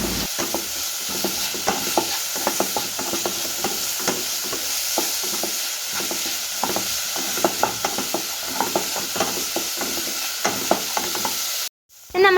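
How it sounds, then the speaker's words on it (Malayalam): Spinach with soaked lentils and salt being stirred in a pan for sambar cheera thoran, with a steady sizzle under repeated clicks and scrapes of the spoon for about twelve seconds before a brief cut. "ഉപ്പ് ആഡ് ചെയ്തതിന് ശേഷം നല്ലപോലെ വഴറ്റി കൊടുക്കുക. വഴറ്റിക്കൊണ്ടേ ഇരിക്കുക."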